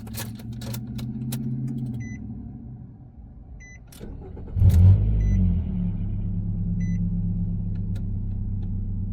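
A 2004-2010 Nissan Quest engine cranks and starts on a newly programmed key, a surge of low rumble followed by a steady near idle with faint chimes over the first seconds, no talk.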